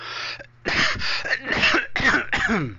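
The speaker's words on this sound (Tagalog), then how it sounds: "At nag-ubo-ubo din ako katulad nito" A string of harsh, close coughs in quick bursts, one short cough first, then several rough hacking fits one after another.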